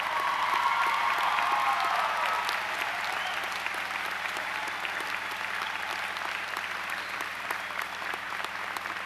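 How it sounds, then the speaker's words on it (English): Sustained applause from a large crowd honoring teachers at a high school graduation ceremony, dense steady clapping that continues evenly throughout without pause. "let's give these men and women a huge round of applause for their work."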